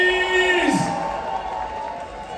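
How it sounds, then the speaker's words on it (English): Crowd cheering and noise at a live Warri concert show as VIP guests are honored, with a loud rising whoop or shout over a busy background and music tones lingering throughout. "Please a round of applause for the VIPs!"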